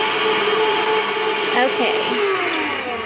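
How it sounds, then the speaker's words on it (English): An electric mixer whisks eggs for a Christmas dessert, a steady droning motor whir running throughout with slight pitch shifts, close and fairly loud, with a voice speaking faintly beneath it. "I'm going to bring you back once I get it whisked up so you don't have to hear the machine"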